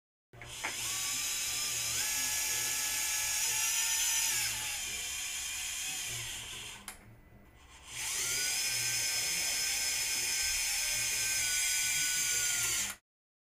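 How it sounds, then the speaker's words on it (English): An oscillating surgical saw cuts through femur bone during a transverse osteotomy, giving a high, steady whining buzz in two long bursts separated by a brief pause, close and clear. "The transverse osteotomy cuts are made in the dorsal 3/4 of the bone with an oscillating saw"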